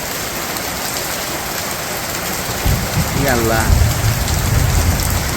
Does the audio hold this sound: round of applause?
no